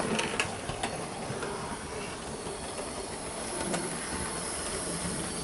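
A Bachmann Southern Class E4 model locomotive runs steadily along a layout past a signal box and station, giving a continuous rolling rattle with faint clicks throughout and no voices.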